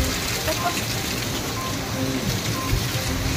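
Heavy rain driven by strong wind pours steadily over a street with flooded roads and overflowing drains, a dense continuous hiss close by with faint voices mixed underneath.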